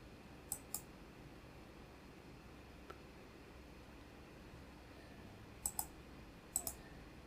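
Computer mouse clicks on a software button, sharp and faint, coming as a few quick pairs spaced apart over a quiet hum of background noise.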